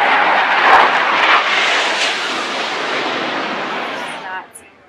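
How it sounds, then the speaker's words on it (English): Two Russian Su-24 jets make a low pass over a US Navy ship: a loud, close, broadband roar that builds, holds steady, then cuts off sharply near the end. "We have two Russian Su-24s currently conducting multiple passovers"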